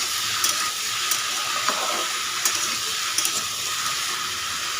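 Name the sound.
stirring bottle gourd with spices in a frying pan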